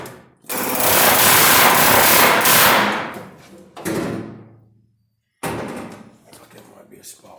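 Hammer blows strike a spot weld on a car quarter panel: a loud, dense stretch of metallic pounding, then two shorter bursts of striking separated by brief pauses.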